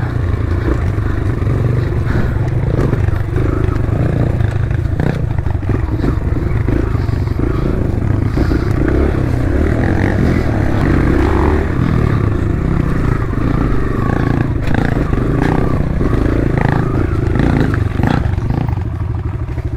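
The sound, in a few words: enduro motorcycle riding on rough trail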